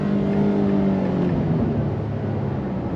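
A 2025 Nissan Frontier V6 pickup with a 9-speed automatic accelerating under throttle: a loud, close engine drone whose tone climbs, then dips and settles as a gear changes, with no talk.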